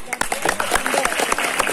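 Audience at a haul religious gathering in West Java claps for Pak Hercules, a dense burst of applause with sharp hand strikes mixed with voices talking over it.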